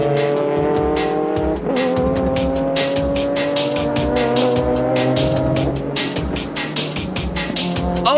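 JGTC GT race cars, a Ferrari among them, roar past at full throttle with a loud, continuous engine howl that climbs in pitch through gear changes, with some tire squeal mixed into the racing noise.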